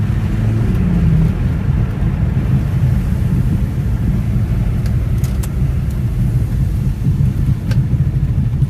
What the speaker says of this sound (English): that turbo, she's not too quiet.